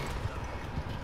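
Horse hooves clip-clopping in a Western-style shooting game, a brief, faint patter of a few hoofbeats.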